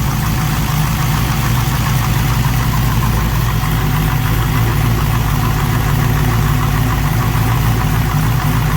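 An LS V8 swapped into a Nissan 240SX idles steadily up close, a loud, even, low rumble running unbroken with no voices over it.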